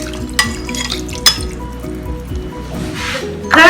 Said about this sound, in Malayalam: കുടംപുളി കുതിർത്തി വെച്ചത് ആ വെള്ളത്തോട് കൂടി ഒഴിക്കാം.